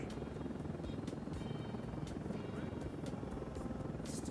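A faint, steady helicopter drone with a buzzing rotor hum, heard from inside the cabin, with occasional soft clicks, flying toward Wembley during Live Aid.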